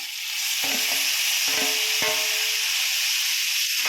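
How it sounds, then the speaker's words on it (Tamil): Ginger and garlic sautéing in a pan over a low flame, a continuous soft sizzle broken by three scraping stirs of a spoon, close and without talk. "லேசான தீயில கொஞ்சம் கிளறி விட்டுக்கோங்க"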